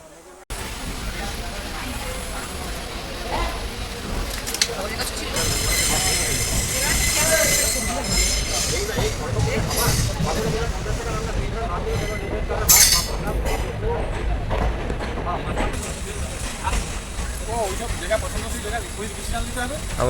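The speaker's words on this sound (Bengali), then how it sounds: "আমাদের ট্রেন একদম রাইট টাইমেই খড়গপুরের জংশনের 2 নম্বর প্ল্যাটফর্ম থেকে ছাড়লো" An SF Express train from Kharagpur to Villupuram pulls out of a station, heard from on board: a continuous rumble of wheels and carriage with squeals and clanks swelling midway, background voices faintly present.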